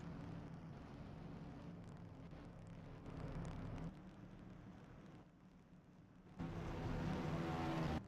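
The number 5 race car in a racing video game, its engine running rough and unclean, gives a loud, steady broadband drone with a low harmonic hum that surges louder near the end.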